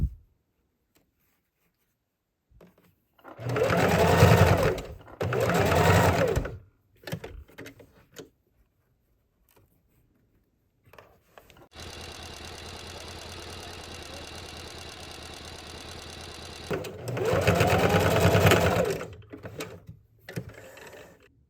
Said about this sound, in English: So we're just going to sew right near the edge.